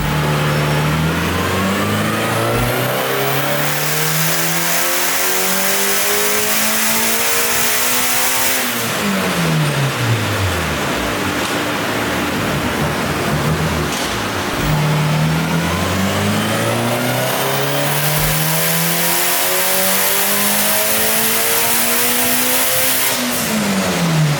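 A Mitsubishi Evo gymkhana car's engine revs hard on a dyno at about 22 psi of boost. Two loud, sustained pulls climb steadily in pitch, and each drops off sharply before the engine winds up again.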